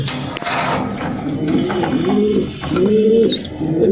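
Racing pigeons kept for sale coo in low, rolling, repeated calls, close and fairly loud, with several birds overlapping in a steady murmur.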